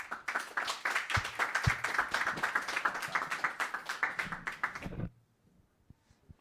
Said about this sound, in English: Maybe last round of applause